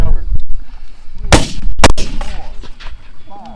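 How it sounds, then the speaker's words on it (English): Muskets fired by file at a Gettysburg Civil War living history reenactment, two loud sharp booming reports a split second apart, with people talking before and after. "what fire by file does is it starts a constant fire instead of waiting for the speed of the soldiers to catch up to the firing"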